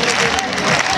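A crowd at the Benidorm bullring claps steadily in dense, continuous applause, loud and close, with voices mixed into the noise.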